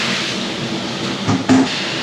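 A slurry tanker runs in the background on a farm, giving a steady low mechanical drone with a couple of brief louder thumps.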